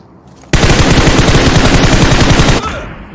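Gunfire from a PUBG Mobile match: a dense, loud burst of rapid shots rattles nonstop for about two seconds, then cuts off into a fading tail with quiet background hum.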